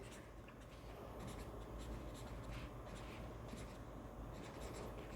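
Marker or chalk scratches steadily across a board while an equation is written out, a continuous close-up scraping with short strokes and pauses, no talk over it.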